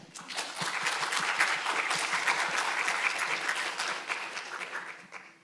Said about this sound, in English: he definitely deserves a big round of applause